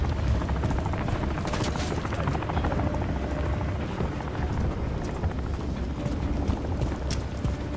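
Helicopter rotor chop in Call of Duty: Modern Warfare III, a steady loud whirring thrum with mechanical rattle running throughout, with faint game-action noise underneath.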